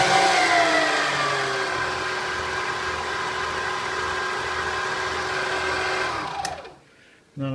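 A Kenwood Chef A701 stand mixer with a freshly rebuilt gearbox runs steadily with a loud, even motor whine and hum, no metallic rattle, then switches off and winds down near the end.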